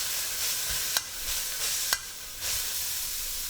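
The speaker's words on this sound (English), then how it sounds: "Add half a tablespoon of light soy sauce and stir fry for another minute" Bean sprouts and soy sauce stir-frying in a hot wok, a close steady sizzle with a few sharp scrapes of the spatula against the metal.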